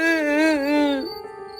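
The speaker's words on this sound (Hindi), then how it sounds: "अचानक एक औरत की धीमी, करुणा भरी रोने की आवाज सुनाई देती है" A woman's slow, mournful wail rises and falls in a wavering tone for about a second, then fades into a faint breathy trail, heard alone and fairly close in a ghost story setting.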